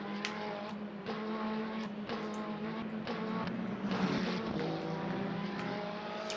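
Race car engine in the Le Mans Ultimate sim racing game at Portimao, a steady loud drone with repeated shifts in pitch as the car runs laps, with no voices over it.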